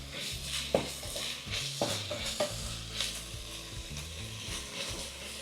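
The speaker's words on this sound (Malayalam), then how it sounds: "ഇതിന് ബ്രൗൺ കളർ ആവുന്നവരെ നമ്മൾ വഴറ്റിക്കൊണ്ടിരിക്കണം" Sliced onions sautéing in hot oil for prawn biryani, a continuous sizzle broken by repeated scraping stirs of a spatula against the pan, close and fairly loud with no voices.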